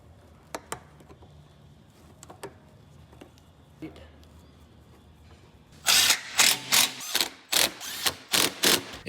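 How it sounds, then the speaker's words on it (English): A ratchet wrench tightens bolts on lift-kit brackets of a 2021-24 Ford Bronco Sport Big Bend or Outer Banks with an HRG Offroad kit. Faint scattered clicks lead into a loud, rapid run of close ratcheting strokes. "we can go ahead and tighten all of those bolts"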